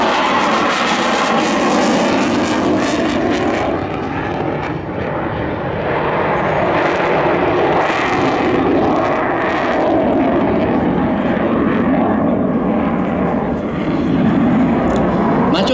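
A MiG-29 jet fighter performs at an air show at Sliač, its engine roar loud and sustained, swelling and easing as it maneuvers, with a commentator talking over it.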